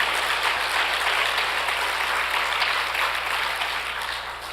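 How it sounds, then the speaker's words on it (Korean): Congregation applauding in a church during a testimony service, dense, steady clapping throughout that fades slightly toward the end. "우리 하나님께 다시 한번 영광의 박수 올려드릴까요?"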